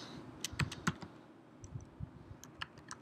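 Computer keyboard keys tapped to enter a command in a terminal, a few scattered keystrokes and short bursts of clicks, close and fairly quiet with pauses between.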